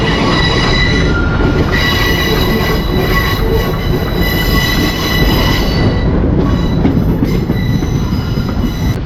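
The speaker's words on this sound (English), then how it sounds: "We are departing from Mangalore Central railway station at 10:02." A passenger train departing Mangalore Central station rumbles and rolls steadily up close, with metallic wheel screech and rhythmic rattling of the carriages throughout.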